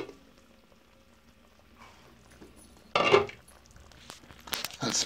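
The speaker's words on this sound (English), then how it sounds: "I'm going to let it bubble for another hour or so." Beef stew bubbles quietly in a slow cooker, a faint low simmer that is followed by two louder bursts of lid-lifting clatter and rustling from close by, with no talking.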